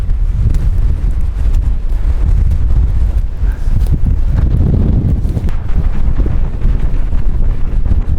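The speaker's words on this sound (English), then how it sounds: "Unbelievably windy up here." Strong wind buffets the microphone on the exposed hilltop at Horse Stones Naze, a continuous loud roaring rumble with gusty surges throughout and no voices.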